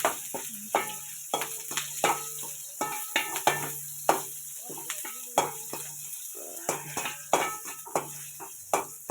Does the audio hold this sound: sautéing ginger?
yes